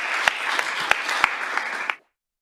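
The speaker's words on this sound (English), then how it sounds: "So give yourselves a round of applause and give Big John a round of applause." Applause at a Springfield city council meeting, a short burst of clapping with a few sharp individual claps standing out, ending abruptly into silence after about two seconds.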